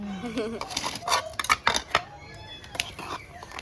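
Pakora batter stirred in a bowl at home, a spoon scraping and clinking against the bowl in quick irregular strokes, close and fairly loud, with a voice talking over part of it.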